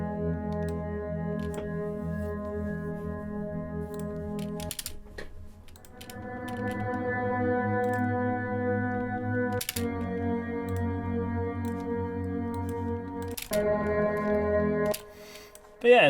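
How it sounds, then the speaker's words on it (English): Sustained tonal pad made by heavily time-stretching a chord with Pull Stretch, smeared beyond recognition into layered harmonic drones that shift chord at a few points, with brief clicks at the joins, steady and loud throughout. "stretches audio beyond recognition, and you can get some really kind of nice tonal pad stuff from that"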